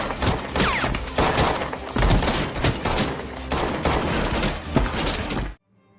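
A crime thriller film shootout brings loud, dense, continuous gunfire with rapid overlapping shots for several seconds before it cuts off abruptly into silence.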